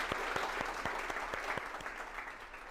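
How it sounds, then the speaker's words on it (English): Applause from an audience at an education talk on AI and teaching, steady dense clapping with a few sharper claps standing out, moderately distant and filling the whole stretch without voices. "a great round of applause for all of you for being here"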